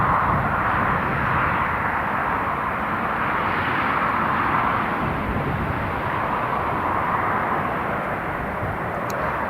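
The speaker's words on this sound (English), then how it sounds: "first up, KLM CRJ 900, Delta Alpha Charlie November uniform" KLM CRJ 900 regional jet at Newcastle International Airport, a continuous broad engine roar at moderate distance, steady and unbroken with no voices.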